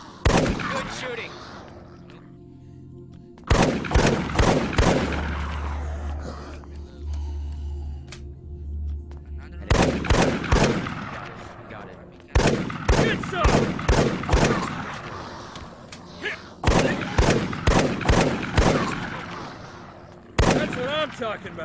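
Gunfire in the video game The Last Stand Dead Zone comes in loud, sharp clusters of rapid shots separated by quieter gaps, with voices talking between the bursts.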